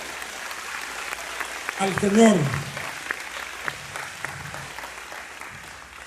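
Church congregation gives loud applause during a sermon, a sustained wash of clapping with a voice briefly speaking over it midway, then fading slightly.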